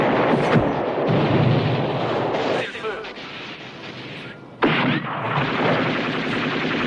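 Loud, dense gunfire and heavy blasts roar through a World War II battle scene from a film in which a French colonel fires on his own troops, with sharp sustained volleys, a brief lull and a sudden renewed burst.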